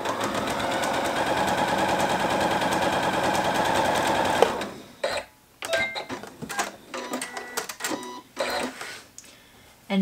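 A sewing machine stitches jelly roll quilt strips across a folded seam, a fast, loud, steady run for several seconds, then stops, followed by scattered clicks and handling noises.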